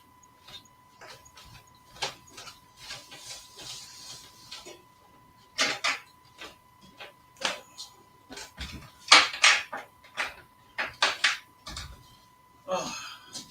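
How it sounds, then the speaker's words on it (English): A thin, steady high-pitched whine hangs faintly in a room from start to finish, while louder knocks, clicks and rustling bursts come and go over it. "I can hear an high pitched whine coming from somewhere"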